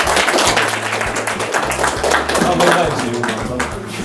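Applause at a community ceremony awarding scholarships to talented students, a crowd clapping in a steady crackle of sharp hand claps while a voice and low background sound carry on underneath.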